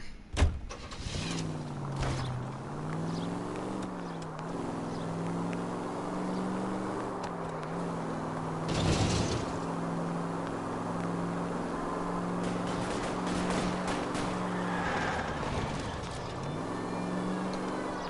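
A car engine in the 1940s-style game L.A. Noire drones steadily at close range, its pitch rising and falling with gear changes and throttle, with a few brief thumps along the way.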